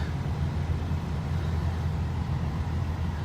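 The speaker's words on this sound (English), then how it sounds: "now I'm just running the car with the heat on" Toyota FJ80 Land Cruiser with a 3FE engine idling with the heater on after a thermostat and coolant flush, a steady low rumble holding even and close throughout.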